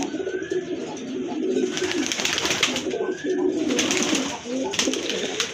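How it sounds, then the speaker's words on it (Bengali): Large pigeons at a pigeon farm coo in repeated low, throaty phrases close by, over a steady bed of rustling and background noise. "আরেক জোড়া কবুতর দেখতে পাচ্ছেন এটা হচ্ছে অনেক বড় সাইজের কবুতর"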